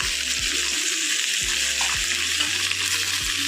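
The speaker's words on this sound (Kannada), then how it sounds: "ಇವೆಲ್ಲ ಎಣ್ಣೆ ಸ್ವಲ್ಪ ಫ್ರೈ ಆಗಲಿ." Cumin and turmeric fry in hot oil for ridge gourd chutney, giving a steady, close hiss of sizzling with faint scraping stirs and soft periodic thumps underneath.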